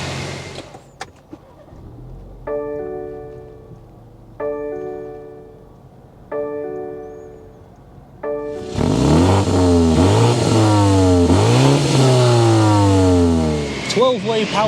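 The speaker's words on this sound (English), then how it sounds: "start up this inline four-cylinder so you can hear that exhaust note." A few clicks and four evenly spaced chime tones, then a 2024 BMW X3 sDrive30i's inline four-cylinder engine fires up and revs loudly several times, rising and falling in pitch.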